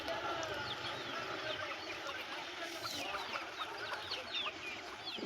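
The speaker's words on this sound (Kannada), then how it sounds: "ಕೋಳಿಗಳು ನೋಡಿ ಎಷ್ಟು ಆ್ಯಕ್ಟಿವ್ ಆಗಿ ಚೆನ್ನಾಗಿದೆ." Chickens cluck and chatter steadily on a farm with coconut and sapota trees, many birds calling over one another in a dense, continuous flock sound at moderate distance.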